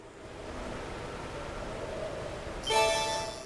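In the video game Trails of Cold Steel, a waterfall gives off a steady, soft broadband rush, with a brighter chiming game effect appearing near the end and no one talking.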